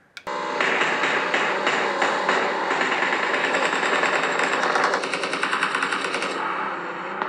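Rapid automatic gunfire from the mobile shooter PUBG Mobile rattles in loud, sustained bursts, close and dense, broken by short gaps, with no voices.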